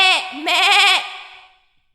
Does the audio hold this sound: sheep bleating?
yes